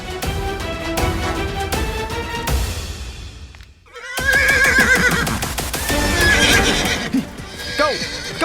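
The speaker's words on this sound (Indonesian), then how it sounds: "Kau hanya kuda biasa" A horse whinnies loudly and close by, with a long descending neigh, a short pause, then a second rising and falling whinny alongside hoof clip-clop, no voices over it.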